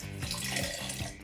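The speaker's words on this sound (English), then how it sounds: "you're gonna add your 2 cups of cold water" Two cups of cold water pour slowly into a smooth Turkish yogurt soup mixture, a close, steady trickling stream with small pulsing gurgles.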